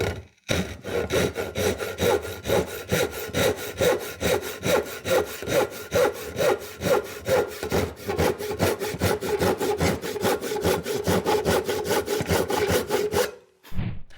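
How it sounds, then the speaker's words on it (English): Japanese hand saw ripping along the grain of a scrap piece of Douglas fir, a steady run of rapid rasping strokes, close and loud, continuing for the whole stretch before stopping abruptly. "Let's cut along the grain."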